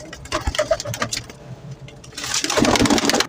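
Pigeons cooing and fluttering close by amid busy market clatter at a pigeon market in Shahdara, with a rising mechanical hum building toward the end.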